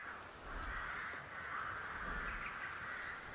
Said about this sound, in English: So we have crows. I can hear the crows.